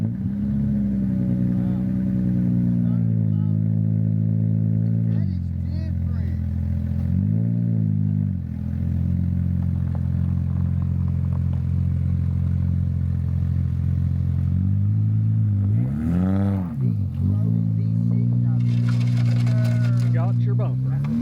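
A car engine hums steadily at low revs as the car is slowly driven up, with several brief revs rising and falling along the way and a clatter near the end.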